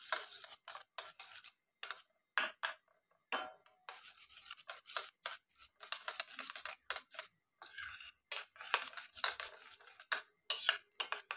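A whisk or fork beats an egg mixture with turmeric and salt in a bowl, giving quick bursts of scraping, tapping strokes in irregular rapid runs with short pauses, close and fairly faint, and no one speaking.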